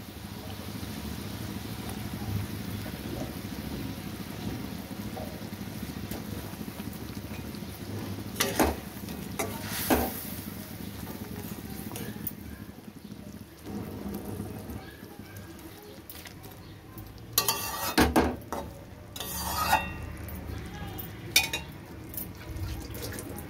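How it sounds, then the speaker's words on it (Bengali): Mustard fish curry gravy boils in a pan with a steady, bubbling simmer throughout. A few louder bursts of clatter and stirring break through near the middle and toward the end. "ঝোলটা ফুটে উঠেছে"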